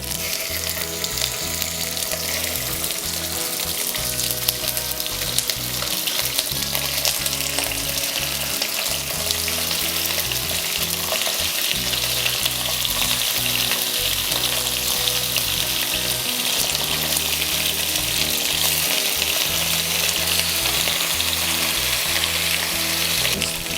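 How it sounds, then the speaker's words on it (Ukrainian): Chicken wings fry with garlic, sizzling and crackling steadily in hot oil for the whole stretch, with occasional stirring clatter, loud and close. "і смажуємо разом з чесничком наші крильці"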